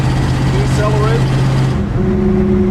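A car decelerates with a steady droning rotational whine from the drivetrain under loud road and engine noise; the tone holds, then shifts pitch near the end.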